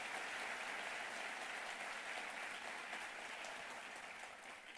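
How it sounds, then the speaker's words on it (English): An audience at a New York governor's event applauds with a dense, sustained wash of clapping that fades slightly at the end. "Let's give them all a round of applause"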